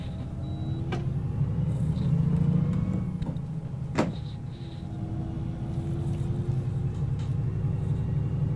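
In the OMSI 2 bus simulator, the engine of an Iveco Crossway LE Euro 4 bus drones with a steady low rumble, rising slightly in pitch. A sharp knock or clunk stands out in the middle.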